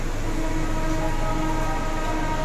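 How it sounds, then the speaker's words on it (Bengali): A Chennai metro train runs at Meenambakkam station near the airport, heard as a loud, steady rumble and rail roar that holds throughout with no voices. "তো এই মেট্রোটা গুন্ডি যাবে।"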